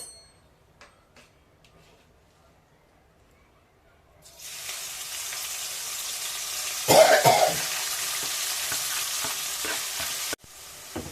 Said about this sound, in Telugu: ఫస్ట్ మనం ఆయిల్లో వేపుతాం నూనె కాగింది దీంట్లో ఇవి వేలు వేసుకున్నాము